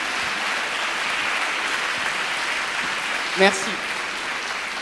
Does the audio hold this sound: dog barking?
no